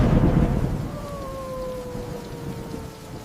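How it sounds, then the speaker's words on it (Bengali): Heavy rain pours down in a thunderstorm, a dense loud roar with a low rumble of thunder rolling through at the start, and a faint tonal whine sliding downward in the background. "আল্লাহ আমাদের জন্য বৃষ্টি পাঠিয়েছেন"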